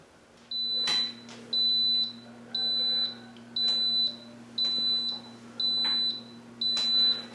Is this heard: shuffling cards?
no